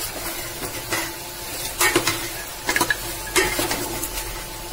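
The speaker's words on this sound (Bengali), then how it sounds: "এবার আমি খুলে কিছুক্ষণ মশলাটা ভাজলাম।" A spatula stirs ground roasted cumin, dried chilli and coriander frying in a pan for mutton curry, with a low steady sizzle broken by clusters of sharp metal scrapes and clinks.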